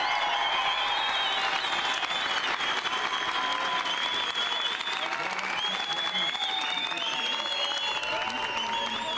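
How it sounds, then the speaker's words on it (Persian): A crowd claps steadily at a lively game-show contest, the dense applause loud and sustained throughout, with faint cheering voices mixed in. "مفصل تشویق کنید"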